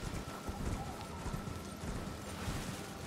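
A horse in the video game Elden Ring clip-clops along in a quiet, steady stream of hoof falls, faint and textured, with no clear talking.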